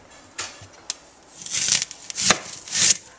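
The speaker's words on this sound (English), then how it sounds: "So I start by cutting the onion in half." A knife slicing through an onion on a board, a few short crisp cuts followed by longer scraping, rasping strokes, close and clear with no talking.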